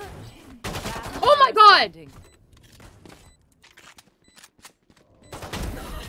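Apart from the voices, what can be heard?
Frenzy pistol gunfire in video game Valorant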